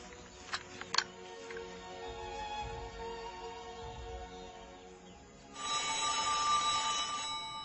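A telephone rings with bright electronic tones, a couple of sharp clicks at the start and a louder burst of ringing near the end.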